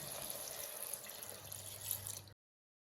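Cornflour mixed in water pours in a steady, soft hiss into a pan, lasting a couple of seconds before stopping abruptly.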